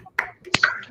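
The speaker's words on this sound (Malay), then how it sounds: "Berikan tepukan untuk diri sendiri." A few sharp claps in a classroom lesson, students clapping for themselves after getting the answers right; two or three quick, close hits spread over a second, with no talk.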